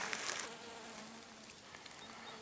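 Bees buzzing around plants in a garden, a faint, steady hum with soft, fluttering passes, distant and quiet over a still outdoor background.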